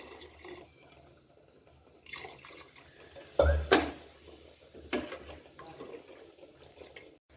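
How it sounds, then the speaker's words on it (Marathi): Water splashes and trickles into a pot of chicken curry with a few clanks of metal, a short pour in the middle of quiet kitchen noise. "तर यामध्ये अजून थोडंसं पाणी ओतून घेते"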